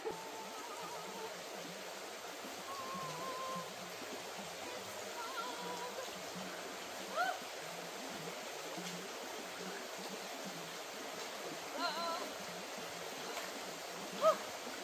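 River being waded across on foot along the Appalachian Trail in southern Virginia, a steady, soft rush of flowing water with a few faint splashes.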